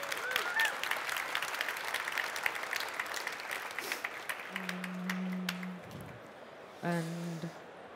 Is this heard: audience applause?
yes